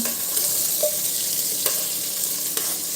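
Biryani ingredients are sautéed in a pan, a steady close sizzle of frying with a few light scrapes of the spatula, and no talk over it.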